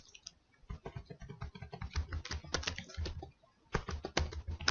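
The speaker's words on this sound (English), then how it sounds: "So I'm going to type in" Typing on a computer keyboard during a word-processing session, a close, steady run of quick key clicks in uneven bursts with short pauses, alone without talk.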